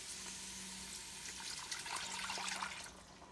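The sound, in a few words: water poured into a liquid measuring cup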